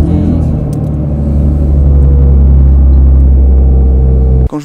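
Inside a small car that is not a minivan, a loud, steady engine rumble fills the cabin continuously and stops abruptly just before the end.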